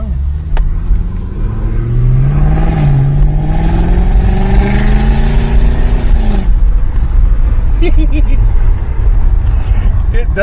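An Audi S8 engine revs loudly and close, the pitch climbing and falling through a long revving sweep before settling into a rough idle, with a voice briefly over it.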